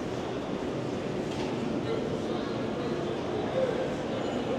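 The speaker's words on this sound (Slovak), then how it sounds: "Táto vlaková stanica je obrovská." A huge train station that doubles as a shopping center in Washington fills with a steady rumbling hubbub of trains and crowd noise, with voices talking in the background throughout.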